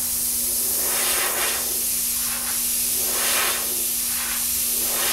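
An airbrush sprays paint onto Kawasaki and Bimota motorcycle bodywork, giving a close, steady hiss that swells and eases in rhythmic passes, with a faint constant hum beneath and no talk.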